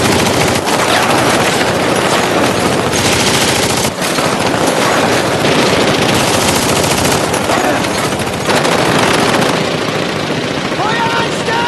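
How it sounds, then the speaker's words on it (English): Machine gun fire in a war film battle, loud sustained rattling bursts with dense background noise and shouting voices mixed in throughout. "Feuer frei!"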